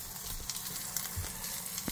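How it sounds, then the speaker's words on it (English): Sausage sizzles in a pan in a van kitchen, a steady low crackling fry with small intermittent pops, close and moderately quiet with no talking. "Doing up the sausage right now."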